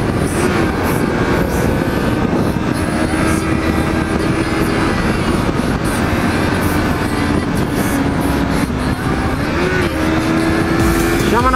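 Motorcycle engine, a Honda CB500X or Yamaha MT-03, riding on a road, a continuous loud drone with rising and falling engine tones and wind noise throughout, with no clear speech.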